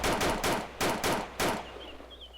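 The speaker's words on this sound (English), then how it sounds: "It's such a cracky sounding shot." Sharp, cracky gunshots fired in BreakingPoint, four distinct bursts in quick succession at moderate distance, then fading into a quiet, faintly whistling tail.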